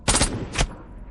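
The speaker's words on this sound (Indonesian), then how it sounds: "Baku tembak kembali terjadi, hingga akhirnya Roman terkena tembakan." Gunfire in a spy film: a quick burst of several sharp close shots, then a single louder shot that rings out briefly and fades.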